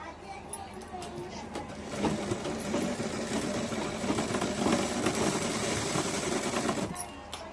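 A sewing machine stitches the shoulder joint of a size-36 tucked blouse with a steady mechanical whir and clatter at close range. Someone speaks over the running motor.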